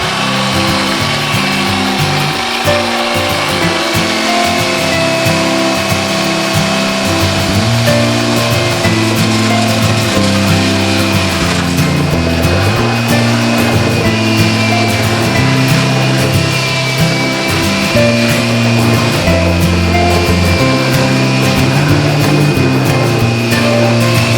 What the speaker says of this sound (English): Now the final sanding of the stern.